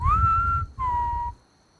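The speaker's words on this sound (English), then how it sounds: "I kept my character down in crouch and approached people while whistling to try and scare them." A player character whistles in the survival game Rust, giving two clear sustained tones, the first gently rising and the second steady and slightly lower, separated by a short gap and heard alone.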